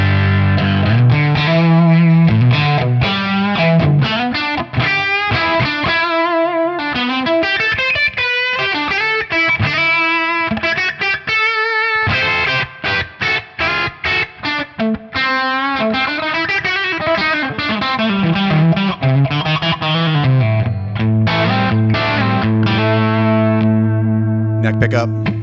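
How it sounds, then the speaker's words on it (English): High-gain distorted electric guitar tone through an amp model on a Tonex pedal, playing a continuous riff of chords and single-note runs with crisp attacks, ending on a sustained ringing chord. "This is starting to get about the most gain you're going to get out of this amp"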